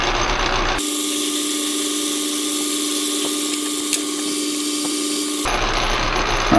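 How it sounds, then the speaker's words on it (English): A center drill bores into a metal firebox bushing on a machine, giving a steady high whine with faint harmonic tones that holds for several seconds, with quieter workshop noise before and after. "Okay, so I got the center drill in, and I'm going to drill in about probably 3/4 inch."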